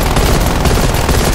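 An automated sentry turret in COD Cold War Zombies Onslaught on PS5 fires continuously, a loud, dense stream of rapid gunfire with booming overlap, filling the whole moment with no pause.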